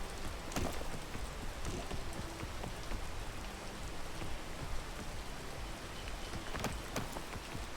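Steady rain in a video game, a dense continuous patter of drops with a few sharper splashes standing out, close and moderately loud throughout, with no talking.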